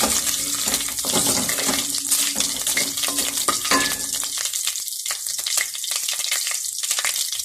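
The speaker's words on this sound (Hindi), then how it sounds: "मैंने ऑयल के डाले हैं, अदरक लहसुन का पेस्ट डाला है 1 चम्मच। अब मैं थोड़ा सा भून लूँ" Ginger garlic paste sizzles loudly in hot oil in a home kitchen pan, a steady crackling fry with stirring scrapes, then quieting toward the end.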